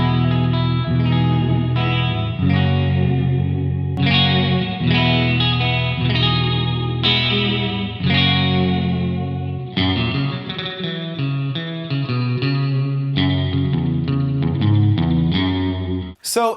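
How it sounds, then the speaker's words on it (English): An electric guitar fitted with EMG JMaster pickups on the middle pickup position plays sustained, effect-laden chords with chorus-like shimmer, loud and continuous, ending with a brief pick scrape. "you can hear the middle position isn't as snappy as the passive pickup"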